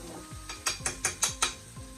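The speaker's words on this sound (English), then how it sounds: "mix in that beans one more time" Beans being stirred into vegetarian nachos in a pan, a rapid series of about six scraping strokes with a light sizzle, close up.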